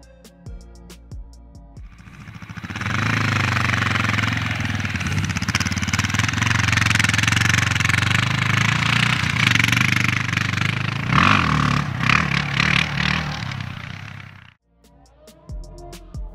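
Honda 650cc dual-sport trail motorcycle engine running at a steady, loud drone with a rough low-pitched beat, holding for about twelve seconds before cutting off.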